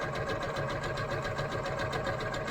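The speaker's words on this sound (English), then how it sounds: "And then you just sew it down using your 1/4-inch seam allowance" A sewing machine stitches quilt fabric along a 1/4-inch seam for a bargello quilt, giving a steady, fast mechanical whir with even stitch rhythm throughout, fairly quiet and alone.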